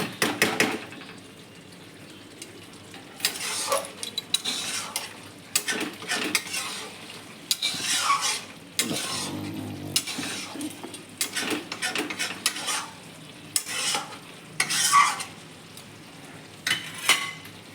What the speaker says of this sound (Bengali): মাছটা একটু নাড়াচাড়া করে তরকারিটা নামিয়ে নেব।